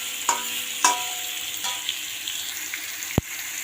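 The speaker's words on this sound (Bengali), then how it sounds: "এখন হলুদ গুঁড়ো দিয়ে ভেজে নেব, ভেজে নামিয়ে নিয়ে আসি।" Pointed gourd, salted and dusted with turmeric powder, sizzles steadily in hot oil, with a few sharp spatula scrapes and knocks against the pan over the continuous frying hiss.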